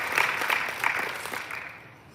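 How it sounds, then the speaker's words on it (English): Audience at a system launch event applauding, a steady wash of many hands clapping that fades toward the end. "I really would like you to give them applause as well"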